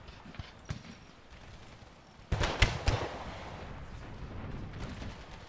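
Artillery fire in Empire: Total War with an American Civil War mod, with a cluster of booming cannon shots near the middle, then a sustained rumble of battle, preceded by faint distant reports.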